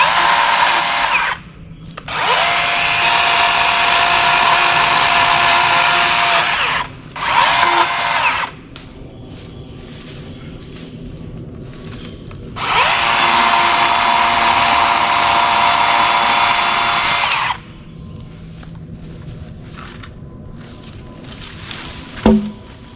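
A DeWalt 60-volt battery chainsaw cuts wood in several loud, sustained bursts of high-pitched motor whine separated by short pauses, then idles quietly near the end with a faint click.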